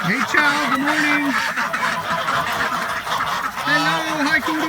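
Ducks and geese in a barn, a steady mix of quacks and honks with two louder bursts of calling near the start and end, a person speaking underneath.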